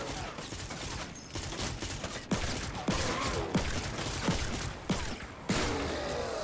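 Repeated gunshots from a weak gun in Fortnite ring out at regular intervals, each sharp crack standing over a loud, busy game backdrop of mechanical noise and wind.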